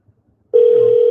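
Single telephone tone, loud and steady, starts abruptly after brief near-silence and holds without break; no voices.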